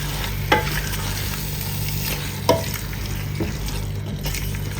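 Chicken simmering in masala in a pan for an easy kabsa chicken rice, with a steady low sizzle and bubbling plus a few brief stirring scrapes, no talk.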